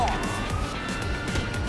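Police car siren in the video game GTA5, a steady wailing tone with engine rumble, brief and moderately loud with no talk.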